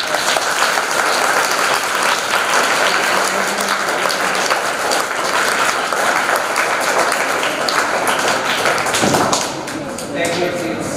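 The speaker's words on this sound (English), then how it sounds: "Claps." A school audience at an English games event claps for a girl announced as winner, dense loud applause running steadily before thinning out near the end, with some taps and thumps and voices mixed in.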